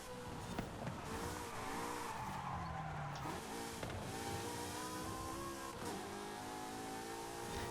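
Race car in the Forza Horizon 5 video game on a circuit, engine revving and shifting through gears with recurring tire squeals as it corners, steady and close throughout.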